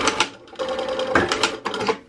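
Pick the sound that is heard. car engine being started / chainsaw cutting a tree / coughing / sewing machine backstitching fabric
sewing machine backstitching fabric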